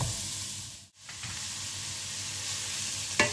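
Shallot and butternut squash sizzling in a frying pan: a dense, even hiss of frying, close and fairly loud, briefly cutting out near the start before resuming, with a short scraping burst at the end.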